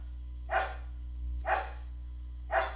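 Three evenly spaced dog barks, about a second apart, sound at moderate distance over a steady low electrical hum, with no talking.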